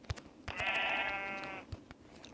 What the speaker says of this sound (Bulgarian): Ще се опитам да запаля тази овца.